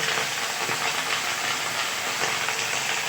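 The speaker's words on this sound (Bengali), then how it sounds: "এই জন্য কপি ভাজছি।" Cauliflower frying in hot oil for a gravy curry: a steady, dense sizzling hiss held close and even throughout, with no talk.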